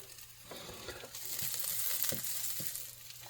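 Butter sizzles and crackles in a pan as a Japanese rolled omelette is being made, a faint, close hiss with light scraping and clatter near the end.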